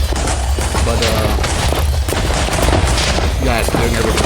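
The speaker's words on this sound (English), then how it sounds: "I don't know if you can actually hear me right now due to all the explosions and chimes" Explosions and chimes from a fantasy video game with a spellblade build, a loud continuous barrage of rapid blasts and booms with bright ringing tones layered through it, with a voice partly buried underneath.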